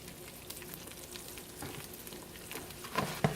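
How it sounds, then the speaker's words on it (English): Rice stir-fries in vegetable oil in a pan for Spanish rice, a faint steady sizzle broken by louder scraping stir strokes near the end, with no one talking. "Stir frying your rice"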